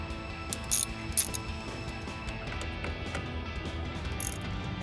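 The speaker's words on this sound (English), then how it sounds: "and a 1/4 inch socket wrench." A 1/4 inch socket wrench with an extension works a headlight nut loose on a 2009-2014 Ford F-150, giving faint, brief ratcheting clicks over a steady background hum.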